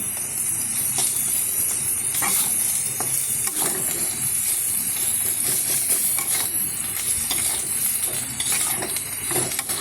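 Ginger, garlic and green chilli sizzle and crackle in hot oil in a pan while being stirred for paneer chilli, a steady frying hiss broken by the scrape and clatter of a spatula.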